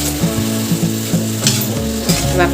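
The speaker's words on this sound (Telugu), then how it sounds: "కలిపి ఇట్లా ఫ్రై చేసుకోవాలి" Brinjal pieces with onion chili paste fry uncovered in a pan while being stirred, a dense loud sizzle punctuated by regular scraping strokes of the spoon, no talking.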